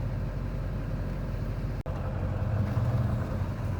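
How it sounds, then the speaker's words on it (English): A Toyota Tundra pickup strains to pull a stuck vehicle free on snow over ice, its engine droning steadily and loud up close, with a brief cut in the middle and wheels spinning as the revs rise toward the end. "Got the Tundra pulling us out."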